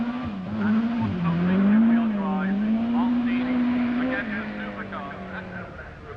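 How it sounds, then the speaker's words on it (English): A rally car at the 1985 Lombard RAC Rally roars with engine revs climbing on a slippery stage, a sustained loud note rising and wavering under a commentator's voice. "Still with the power on, as you can hear the revs roaring up."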